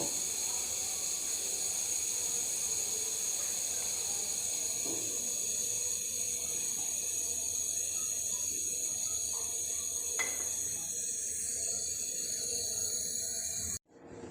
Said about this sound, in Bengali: দুধটা ভালো করে ফুটে উঠেছে